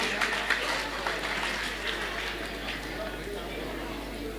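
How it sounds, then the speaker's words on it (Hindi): Faint, steady applause from a seated audience at a ceremony for students, sounding distant and washed out beneath a low background hum, with no clear peaks. "जोरदार तालियां"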